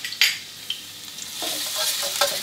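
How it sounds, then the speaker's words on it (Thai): Garlic frying in hot oil in a stainless steel wok for Thai fried rice with canned fish, a steady broadband sizzle with a few sharp stirring scrapes and clinks, close and alone without talk. "พอกระทะน้ำมันเริ่มที่จะร้อนครับก็กระเทียมครับ"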